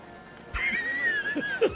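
A horse neighs with a long, high whinny, close and clear, during a casino horse race in GTA 5, followed by a couple of short snorts.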